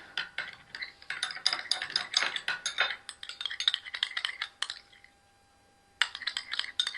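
A spoon stirs aloe vera gel with glycerin in a small bowl, making rapid close clinks and scrapes in bursts, with a short pause before the stirring resumes.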